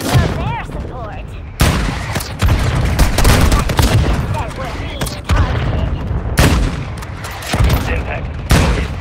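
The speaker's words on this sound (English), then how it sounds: "Mortar strike inbound now." Mortar strike in Warzone Mobile, loud repeated explosive blasts and bursts of gunfire in a chaotic battle, several sharp impacts spread across the stretch with voices talking over parts of it.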